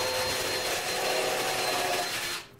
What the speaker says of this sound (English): He is pre-drilling the holes